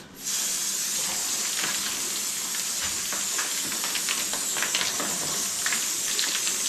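Water sprayed from a hose onto a dry, dusty wall inside a cave house in hot weather: a loud, continuous hiss that starts abruptly and holds steady, with splashy crackle as the spray hits the surface.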